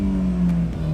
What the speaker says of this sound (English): so let's rev it up